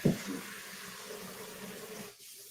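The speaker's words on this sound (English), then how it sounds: "Let that fill up with some hot water." Hot water runs steadily from a kitchen tap into a sink while it fills. The stream is close and constant and slightly hissy, then thins near the end.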